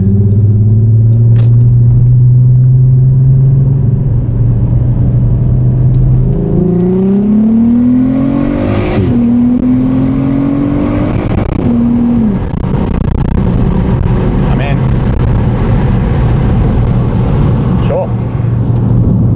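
A car with its exhaust valve open accelerates hard, its engine note climbing loud and close through several gear pulls with a steady road rumble underneath, heard from inside with the passenger window down.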